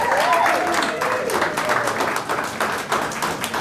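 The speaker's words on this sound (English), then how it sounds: "ask you for a big round of applause for Mr. Jon Lord." An audience at a Childline Rocks charity auction launch breaks into sustained applause, a dense wash of clapping that holds fairly steady and fades slightly toward the end.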